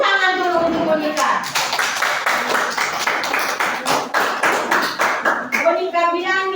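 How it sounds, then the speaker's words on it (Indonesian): A classroom of pupils claps for a classmate, brisk, fairly loud hand claps building into a lively burst, framed by a teacher speaking before and after. "Tepuk tangan dulu untuk Monica."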